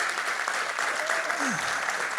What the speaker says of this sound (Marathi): तर सगळ्यांकरता एकदा जोरदार टाळ्या झाल्या पाहिजे.